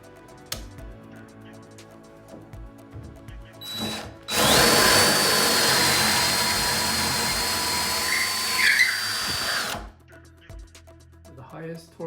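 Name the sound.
DeWALT DCK283D2 drill running in second gear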